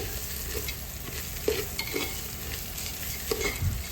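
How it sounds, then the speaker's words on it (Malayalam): Rice frying in ghee for ghee rice, stirred in the pan: a continuous close sizzle with a soft crackle, broken by repeated scraping strokes of the spoon at an uneven rhythm, no talking. "അരി നന്നായി വറുത്തെടുക്കുകയാണ്"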